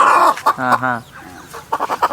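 A native-breed rooster at a poultry farm gives a short harmonic crowing call near the start, followed by a few choppy clucks and bird noises close by, with a voice talking around it.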